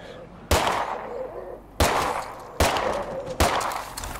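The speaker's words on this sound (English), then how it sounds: "Stop shooting." Gunshots ring out in State of Decay 2, four sharp, loud single shots spaced unevenly, each with a short ringing tail.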